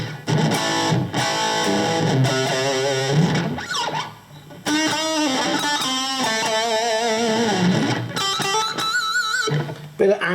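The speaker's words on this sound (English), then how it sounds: "listen to this for an authentic, like, 1970s, 80s Marshall distortion." Zoom G2 Nu multi-effects pedal set to a Marshall-style 1970s–80s distorted guitar tone, loud chords and sustained riffing, with a brief drop near four seconds before the gritty playing resumes.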